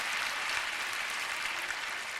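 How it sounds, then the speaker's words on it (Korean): A large prayer-meeting audience gives sustained, even applause, a soft wash of many hands clapping that holds steady throughout with no talk. "이런 건 박수 한번 쳐주십시오."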